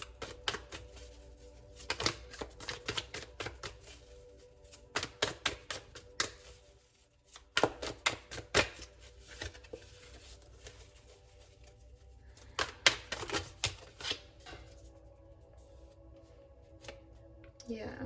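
Tarot cards shuffled and drawn by hand: rapid riffling clusters of crisp card flicks come in several bursts separated by short pauses, close and clear with no talking.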